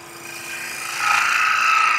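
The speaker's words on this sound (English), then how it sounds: "I'm going to clean that up very quickly with a little spindle gouge." A small spindle gouge cleaning up a dovetailed wooden tenon on a spinning lathe: a close, steady rasping scrape of steel on wood that grows louder and brighter halfway through and holds to the end.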